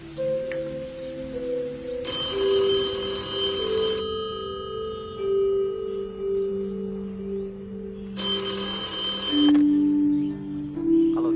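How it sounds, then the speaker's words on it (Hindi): A telephone rings in two loud electronic bursts separated by a pause, over steady household background with a low hum, no voices. "ऋषभ बाबा का फोन है"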